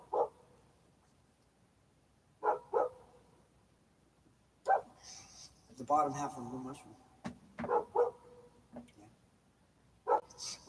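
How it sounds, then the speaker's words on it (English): Dogs barking in short separate bursts, single and double yaps spread across the span and fairly near, with a person talking over and between them. "what are they barking at?"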